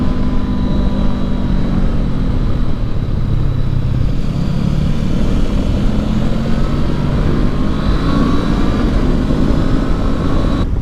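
A 2019 Honda CB500X on Dunlop TrailMax Mission tires carries through twisty Oregon road turns, its engine droning steadily with loud, continuous wind rush throughout, the pitch rising and falling gently with the throttle.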